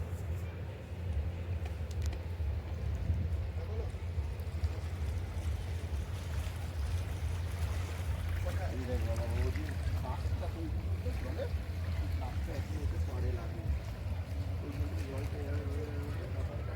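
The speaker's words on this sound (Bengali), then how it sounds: "আরেকটি আসছে জাহাজ গঙ্গাবক্ষের উপর দিয়ে বাংলাদেশ থেকে" A cargo ship travels along the Ganges from Bangladesh, heard from a riverside ghat at Bhatpara as a steady low engine drone and water wash throughout, with people talking over it.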